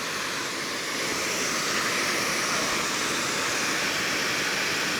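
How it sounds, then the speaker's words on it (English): Waterfall spilling below the old dam at Rock Island, a steady, loud broadband rush of falling water that holds constant throughout with no voices. "And here is the waterfall from a different view."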